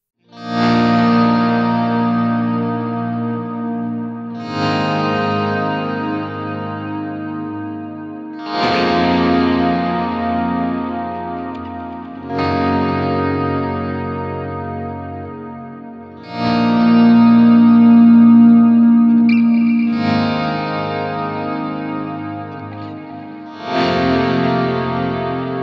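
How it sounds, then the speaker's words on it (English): Electric guitar played through an FM3 ambient quad tape multi-tap delay, sounding as slow, sustained chords that swell at regular intervals and trail off into dense, atmospheric repeats. "I've selected probably my favorite multi-tap delay, the ambient quad tape, to produce a really nice atmospheric sound"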